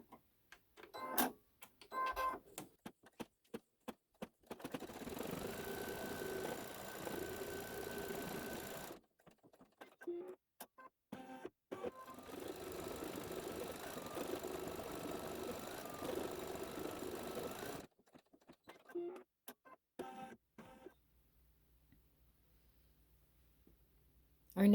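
Embroidery machine stitching a design, rapid mechanical needle clatter running in long steady bursts separated by pauses and clicky stops, fairly close and alone.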